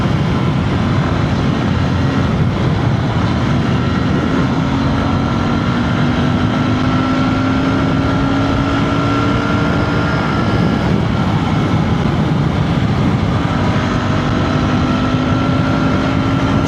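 A Royal Enfield Bear 650 motorcycle engine accelerating in fourth gear, a loud steady drone with slowly rising pitch running continuously throughout, close and unbroken, with no voices over it.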